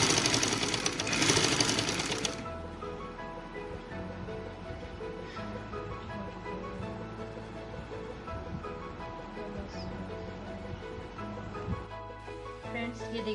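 A sewing machine stitches a box pleated girls' frock, starting with a loud rattling run, then settling into a quieter continuous mechanical hum with small clicks.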